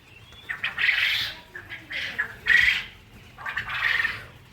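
Caged quails in cold winter weather give a string of shrill squawking calls, three or four close, loud bursts with short pauses between them.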